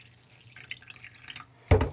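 Dirty rinse water poured off washed jasmine rice in a pot, a faint trickle and drips that end in a brief, louder splash, with no talking.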